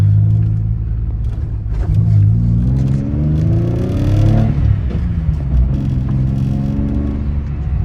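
A built twin-turbo Nissan 300ZX with a rebuilt, upgraded engine revs hard, its exhaust rising and falling through several loud throttle blips, close up and alone.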